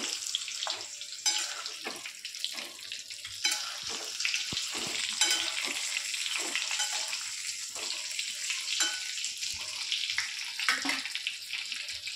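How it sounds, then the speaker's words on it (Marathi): Eggplants frying in hot oil in a pan make a steady crackling sizzle, with scattered pops and bursts as pieces are dropped in one by one, moderately loud and close with no talking. "एक एक करून वांगी तेलामध्ये सोडूया।"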